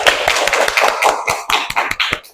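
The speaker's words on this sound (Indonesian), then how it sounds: "Beri tepuk tangan" A classroom group claps for the first student group, a quick, loud run of many overlapping hand claps with uneven rhythm, close by and without talk.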